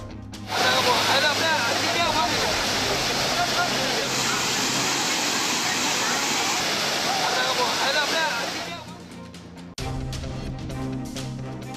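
Water roars down Kumbakkarai waterfall, swollen by rain, as a dense, continuous rushing wash that is loud and steady for most of the stretch before dropping off abruptly near the end.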